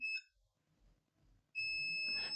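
A multimeter in continuity mode, testing a shorted laptop motherboard, beeps twice with a high electronic tone, a brief chirp then a sustained steady beep, close and clear against near silence.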